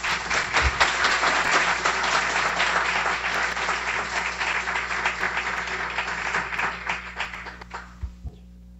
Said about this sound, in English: So a round of applause and congratulations.